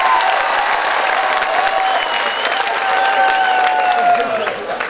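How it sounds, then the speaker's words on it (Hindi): Loud crowd applause and cheering fill the hall at a kavi sammelan poetry gathering, with a sustained tone and some voices mixed into the clapping. "पूरा सदन एक बार जोरदार ताली हो"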